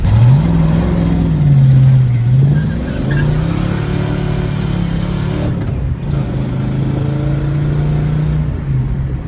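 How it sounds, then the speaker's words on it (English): A Ford Mustang Foxbody with a slipping clutch revs its engine close by, the pitch rising and falling in a long swell before settling into a steady, loud drone. "Clutch is slipping a little bit"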